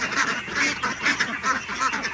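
A flock of ducks quacks continuously nearby on a farm, overlapping nasal calls forming a dense, pulsing chatter.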